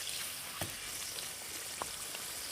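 Kachori deep-frying in hot oil for a Bengali kochuri recipe: a steady, moderately loud sizzling hiss with a couple of sharper spattering pops, no voices.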